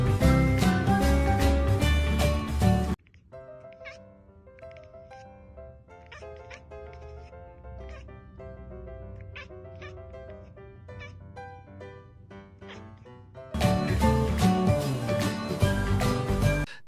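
A cat meows in a series of short, repeated calls at a moderate level, framed by loud music at the beginning and end.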